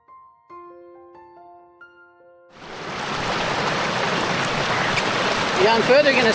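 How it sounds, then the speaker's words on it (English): Water rushes steadily over small waterfalls between rock pools at Buley Rockhole in Australia, a loud continuous wash that swells in at once after a few soft tonal notes and carries on to the end. "And like little waterfalls between each level."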